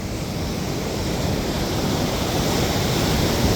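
Ocean surf breaking on a beach, a steady loud wash of broadband noise rolling on without pause, close by and with no voices over it.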